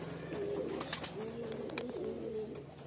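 Pigeons at a racing loft in Gerona, Tarlac, during a training arrival give soft, repeated cooing calls at close range, alone over faint background noise.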